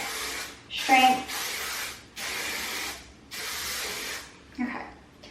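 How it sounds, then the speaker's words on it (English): Herbal Essences volumizing hairspray sprayed in four or five separate bursts, each a close, bright hiss lasting about a second, with a brief rattle or voice in between. "I'm using this Herbal Essences volumizing hairspray, and it has like the extra strength."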